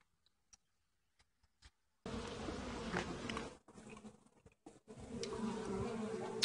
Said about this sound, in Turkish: Arılar kovanın içinde böyle ölüyor işte.